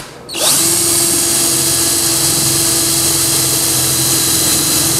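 A power drill boring a couple of handle holes in a shop-built stackable wooden drawer, starting abruptly and then holding a loud, steady whine close by.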